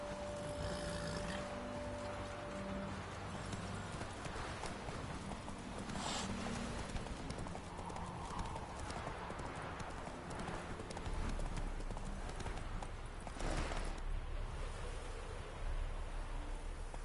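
Steady hoofbeats of a horse galloping under a rider in The Witcher 3, a continuous rhythmic clip-clop that holds for the whole stretch over a broad wash of game ambience, with a brief whoosh near the middle and another toward the end.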